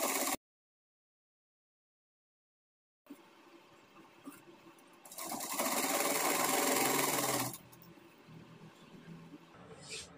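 Sewing machine running while stitching a blouse lining, a steady whirring burst of several seconds after a short silence, then quieter handling noise.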